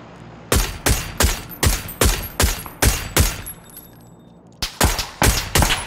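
Gunfire in a shooter video game: sharp, loud shots fire in a quick rhythmic volley, pause briefly, then resume in another rapid burst, close and dominant.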